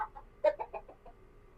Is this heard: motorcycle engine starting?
no